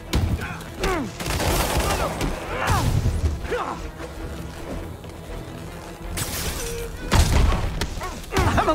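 Gunfire in the video game Spider-Man Remastered, loud bursts of shots and impacts scattered across several seconds with clustered volleys near the start and end, mixed with mechanical clanks and game voices talking in between.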